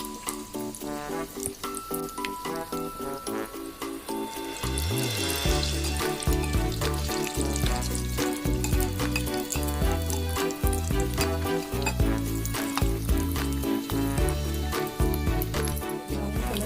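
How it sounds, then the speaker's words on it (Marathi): Egg kababs frying in oil in a pan, with continuous loud sizzling and crackling throughout, steady and close, with no voice heard. "फ्राय करून घेऊया. थोडंसं साईडने तेल सोडत राहायचं."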